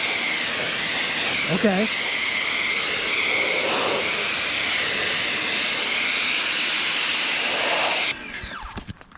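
A Ryobi automotive pressure washer with a 25-degree nozzle sprays in a loud, steady hissing roar with a high whine, a brief spoken word over it, then the spray cuts off and fades near the end.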